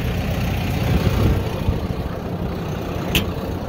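A tractor engine idles steadily outdoors in a farm field, a constant low rumble at moderate distance with a brief sharp click partway through, no talk.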